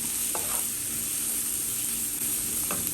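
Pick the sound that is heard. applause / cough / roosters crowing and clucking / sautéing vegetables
sautéing vegetables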